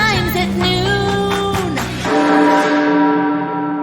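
A tolling bell sound effect plays for a necrotic spell during tabletop role-playing combat: loud, ringing strikes with shimmering overtones, the last one sustaining and slowly fading.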